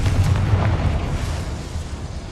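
A Confringo blasting spell in the Hogwarts Legacy video game erupts as a loud, deep explosive rumble that stays heavy and sustained for over two seconds, with no voices over it.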